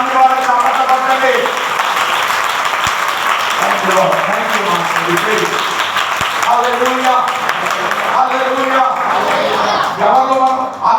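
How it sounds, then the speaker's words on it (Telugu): A church congregation applauds together at a Sunday service in Vizag, sustained clapping filling the room steadily for the whole stretch with a few louder bursts. "అందరూ గట్టిగా చప్పట్లు కొట్టి ప్రభు సంఘాన్ని సరిగ్గా చేసుకోవాలని నమ్మి వాళ్ళకి చప్పట్లు కొట్టండి"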